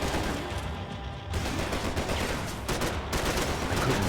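Rapid gunshots in a Max Payne 3 firefight, a sustained crackle of bursts over a noisy background, moderately loud, with sharper volleys at intervals.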